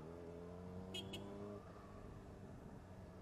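A 600cc motorcycle engine revs faintly, its steady droning note holding for about a second and a half before dropping away into quieter rumble.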